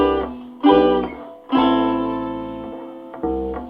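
Acoustic guitar and bass picked up together by a room microphone, strummed chords ringing out in three or four bursts with sustained, roomy decay and low bass underneath, no voices.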